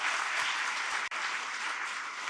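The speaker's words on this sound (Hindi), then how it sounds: "अगर इसको हम अपने तालियों से प्रकट करें तो मुझे लगता है कि ये पूरा हाल गूंजना चाहिए उससे।" A hall audience claps together in a dense, steady burst of applause that fills the room without pause, loud and continuous throughout.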